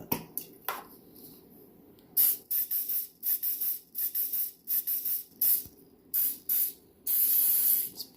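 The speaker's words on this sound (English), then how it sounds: "A little bit of canola oil on it." Canola oil sprays onto chicken wings in a series of short, close hissing bursts, roughly a dozen quick squirts with a longer spray near the end, with no talk.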